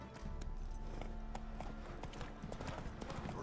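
Roach the horse clip-clopping along in The Witcher 3, a steady rhythmic run of hoof beats heard up close, mixed with game ambience and background music.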